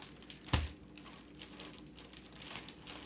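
Plastic bag holding chicken leg quarters handled close up: one sharp crinkle, then quieter scattered rustles and crackles.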